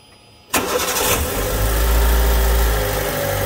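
A Fiat Uno Fire Evo car engine cranks and catches abruptly after a moment of quiet, then settles into a loud, close, rumbling idle that swells slightly as it steadies. Nobody speaks.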